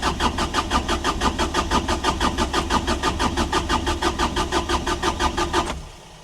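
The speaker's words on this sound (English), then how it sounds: "I don't want to run the starter too long. I'm sure it's lost its prime by now." A starter cranks an engine that has lost its fuel prime, giving about six seconds of loud, close, rhythmic churning pulses that stop abruptly without the engine catching.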